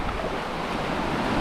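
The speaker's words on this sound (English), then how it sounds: "I'm going to try and get a nice image of this rock here, got all the waves crashing around it" Waves crash continuously around a rock on the Seven Sisters coast in Sussex, a loud, dense roar of surf mixed with wind buffeting the microphone.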